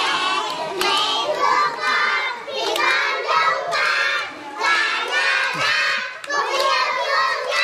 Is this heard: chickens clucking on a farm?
no